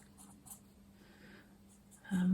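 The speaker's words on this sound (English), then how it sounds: "So I'm just going to draw on where I want to sew." A chalk pen marks a sewing line on cushion fabric, giving faint, close scratchy strokes in a quiet room, with a louder rustle at the very end.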